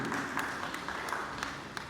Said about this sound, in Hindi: इस बात पर तो एक तालियां बजनी ही चाहिए।